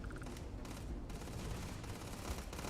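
Weapon fire in the video game Starfield, a dense, rapid burst of shots running steadily throughout, muffled and fairly low in level, with no talking.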